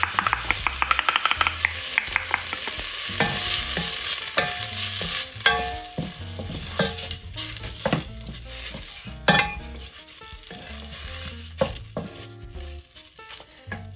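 Fresh bay leaf, thyme, poultry seasoning and turmeric cook in a hot pan for vegan noodle soup, a close sizzle with busy, irregular spoon scrapes and clinks against the pan and no talking.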